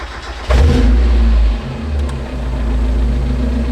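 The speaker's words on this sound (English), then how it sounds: "Turn it on and see how it idles." A Mazda Miata engine starts up loud and close with a quick rev burst, then settles into a steady, low idle that holds evenly.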